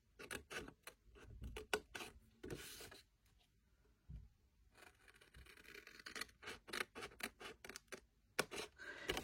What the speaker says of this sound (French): je coupe avec mon ciseau au milieu de la bande